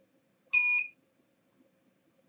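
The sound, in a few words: beep from Spooky2 device switching on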